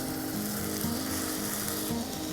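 Fenugreek (methi) goes into a pan of tomatoes, setting off a steady close sizzle and frying hiss with stirring scrapes under light background music, no talking.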